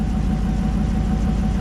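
A rebuilt 2009 Hemi 1500 V8 idles steadily at close range, a dense continuous low rumble with an even tone running throughout, no voices over it.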